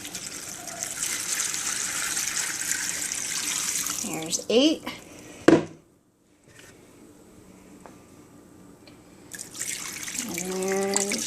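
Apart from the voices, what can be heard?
water poured into a pan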